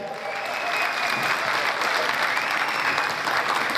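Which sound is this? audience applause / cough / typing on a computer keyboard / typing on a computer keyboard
audience applause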